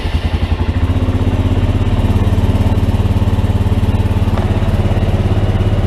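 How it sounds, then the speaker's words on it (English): A 2006 Suzuki Eiger 400 four-wheel-drive ATV with a five-speed foot shift cold-starts on light choke, sputtering briefly before settling into a loud, steady, low-pitched idle thump close by. "And there's the cold start."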